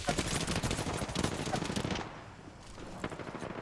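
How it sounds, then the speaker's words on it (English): Automatic gunfire in the battle royale game Apex Legends, a dense loud rattle of rapid shots for about two seconds, then quieter scattered shots and game noise. "You're getting shot in the ass, Mac."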